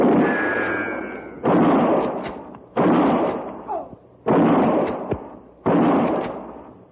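Rifle shots in an old-time Western radio drama: four loud, broad booming bursts about a second and a half apart, each ringing out and decaying before the next, with no talk over them.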